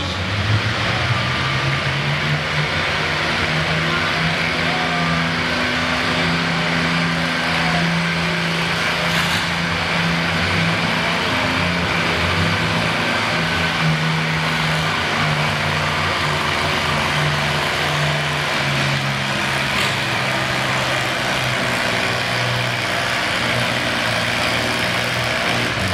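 A 3,750 lb class pulling tractor roars through a pull run at a winter tractor-pulling event in Southern Virginia, its heavy engine droning loud and steady for the whole stretch with rising and falling low tones and crowd-like background noise.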